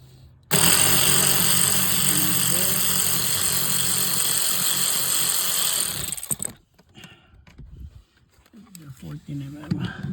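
A power tool whirs loudly and steadily for several seconds while taking out the driver seat bolts of a Lexus GX470, then cuts off, followed by quieter clicks and handling noises.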